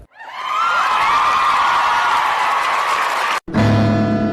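An audience bursts into loud applause and cheering at a comedy show, a dense roar of clapping and whoops that swells quickly and holds, then cuts off abruptly into other sound.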